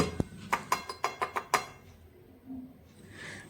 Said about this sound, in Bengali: আওয়াজ শুনে নিশ্চয় বুঝতেই পাচ্ছেন নাড়ুগুলি কতটা খাস্তা হয়েছে